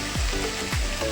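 Bagoong is added to laing sizzling in a hot pan, giving a steady fry hiss with two or three soft scraping stirs over about a second and no voices.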